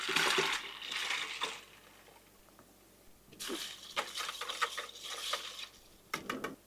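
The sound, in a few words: pouring ice water into a brine and stirring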